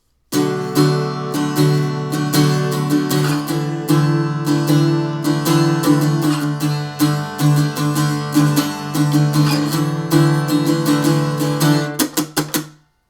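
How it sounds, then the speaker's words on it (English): An electric guitar strums a chord progression from the second part of a song in a steady down-up rhythm, loud and alone, ending in a few sharp choked strums. "So altogether, the second part is going to sound like this."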